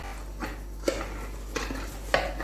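A metal spoon scrapes and clinks against a container while mixing fenugreek and spices for a mixed pickle (achar), four soft distinct taps spaced about half a second apart over a low steady hum.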